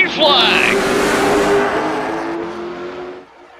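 Late model stock cars roaring off at the start of a race at Richmond, a loud engine surge swelling then fading as the pack pulls away, with a commentator talking over it.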